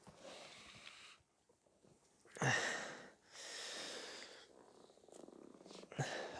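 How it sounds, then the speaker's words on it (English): During a full-body home workout warm-up with foam-roller leg rolling, a person breathes heavily right into the microphone, with several loud, rasping breaths separated by quieter pauses. "Hopefully I'm not heavily breathing into the microphone."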